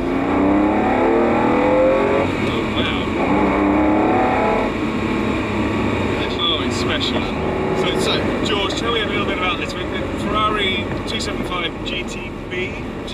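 A Ferrari 275 GTB two-cam engine drones steadily while driving, loud and close, with revs swelling and easing, as people talk over it.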